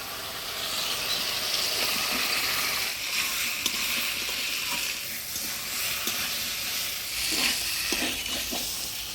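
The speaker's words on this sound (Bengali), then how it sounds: "এবার সিদ্ধ করে রাখা সবজি কচু আর আলু দিয়ে দেবো" Spice paste frying in a pan with boiled taro and potato being added, a steady close sizzle with stirring scrapes and bursts of hissing, no voices.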